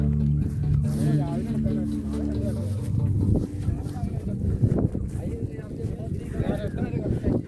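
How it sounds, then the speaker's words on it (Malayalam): Wind buffets the microphone in a rough, continuous rumble at a scenic spot on a bike ride to Idukki while someone talks over it. "നല്ല കാറ്റുണ്ട്"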